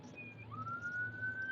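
A police car siren wails as a rising, steady tone over a low rumble of traffic, moderately close and growing slightly louder.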